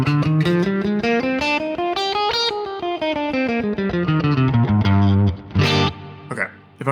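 Phrygian mode, a minor scale with a flattened second, played as a steady run of single notes up and back down on a distorted, effects-processed electric instrument, closing with a loud sustained chord and a few scattered notes.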